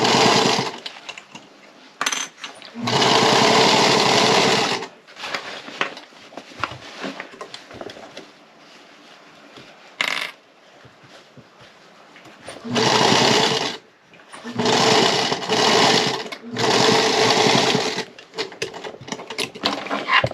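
A sewing machine back stitches a girls' peasant dress in several loud bursts of fast whirring stitches, separated by quieter gaps with faint handling sounds.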